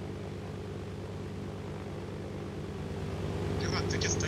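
A propeller airplane engine in the DayZ video game drones steadily as a loud low hum that grows slightly louder, while people talk over it.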